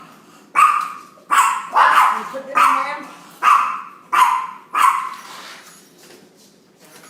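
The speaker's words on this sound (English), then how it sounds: "my dog saw something, excuse me" A dog barks indoors in a home kitchen, seven loud, close barks in an uneven series, with a voice briefly heard talking.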